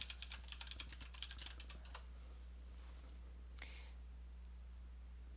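Quick bursts of keystrokes clatter on an Ultimate Hacking Keyboard in a quiet room with a steady hum, dense for about two seconds before a single later tap.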